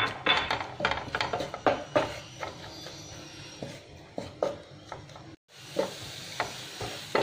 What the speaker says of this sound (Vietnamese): Ở đây mình dùng khoảng một muỗng canh vung tỏi băm, mình phi cho nó vàng rồi mình tắt bếp.